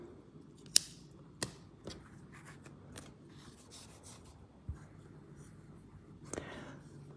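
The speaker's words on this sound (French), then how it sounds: "Là, on va couper une bonne longueur parce qu'on va coudre le corps à la tête." Scissors snip through crochet yarn while making an amigurumi duck, a few quiet separate cuts with soft rustling and handling sounds between them, close and faint with no talking.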